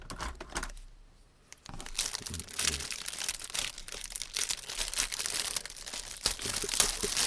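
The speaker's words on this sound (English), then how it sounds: "Get out my handy dandy bag cutting scissors." A plastic bag holding parts for a Tamiya 1/24 Lancia Stratos Turbo model kit is handled and cut open with scissors, giving close-up crinkling and rustling plastic noises with a brief quiet gap near the start.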